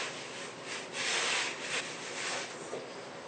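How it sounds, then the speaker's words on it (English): Perlite being mixed by hand into a wet refractory mix toward a wet-sand consistency, a close gritty scraping and rubbing that swells and fades in uneven strokes. "Here I've added the perlite and I mix until I get a consistency of wet sand."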